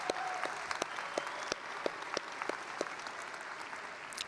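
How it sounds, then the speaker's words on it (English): Steady audience applause fills a college commencement hall, a continuous wash of clapping punctuated by a few sharp whistles and cheers. "That's worth clapping for."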